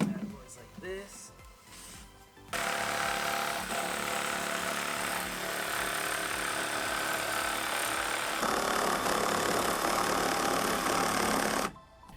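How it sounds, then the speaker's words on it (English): A jigsaw cuts a board for a DIY car trunk carpet platform, starting after a brief spoken moment and then running loud and steady for about nine seconds of continuous buzzing saw noise before stopping abruptly. "next we're going to go ahead and cut it out with this jigsaw"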